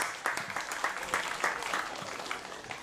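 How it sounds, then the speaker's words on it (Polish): An audience claps warmly for the Rytm Zembrzyc orchestra at a festival of volunteer fire brigade orchestras. The sound is a dense, steady round of applause with crisp individual claps throughout, fairly close and unbroken. "Bardzo proszę o gorące brawa."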